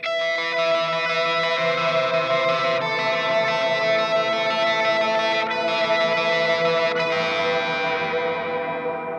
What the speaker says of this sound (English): I started with some reverb, so in the middle the sound was this one.